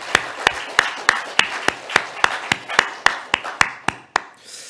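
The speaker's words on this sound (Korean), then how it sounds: "박수 한번 주시기 바랍니다" A church congregation claps after a service, with about fifteen sharp, close hand claps landing in a fairly steady rhythm before tailing off.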